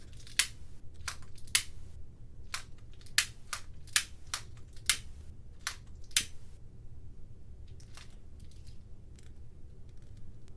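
Burning paper sputtering inside a mason jar: faint, irregular sharp crackles and pops scattered over several seconds, growing sparser toward the end, against a quiet low hum.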